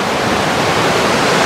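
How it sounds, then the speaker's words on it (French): A town waterfall cascade near a bridge gives a steady, dense rush of falling water, loud and close, with no other sounds. "vous devez entendre vachement l'eau,"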